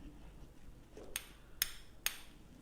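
Three sharp hammer blows strike a piece of ice in quick succession, each a crisp cracking crunch close to the microphone over a quiet room.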